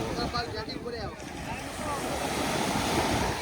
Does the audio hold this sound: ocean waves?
yes